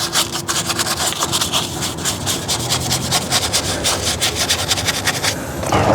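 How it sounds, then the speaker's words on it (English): A brush scrubs a van wheel, giving loud, rapid back-and-forth rasping strokes in a steady rhythm with no talk, ending in a brief louder burst. "I'll give it a good scrub now."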